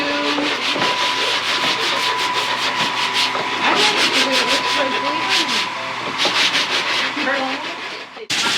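Several people sand wood by hand in a workshop class, making rhythmic rasping strokes that rub back and forth at close range, with people talking over the scraping and a brief clatter near the end.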